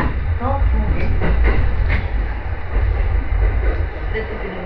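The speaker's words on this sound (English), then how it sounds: "This is the Umeno Tokyo Line train for Akashi via the Tokaido Line." Ueno Tokyo Line commuter train running in snowy Tokyo between Ueno and Tokyo, a steady loud low rumble of the moving car with faint rail clatter and onboard announcement audio underneath.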